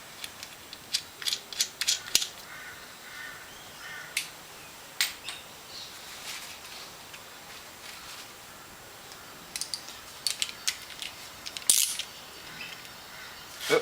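Screw being turned back in by hand on the ignition coil of a 2001 Honda Civic, with quiet, close metallic clicks and ratchet-like ticks scattered unevenly over a faint background hiss.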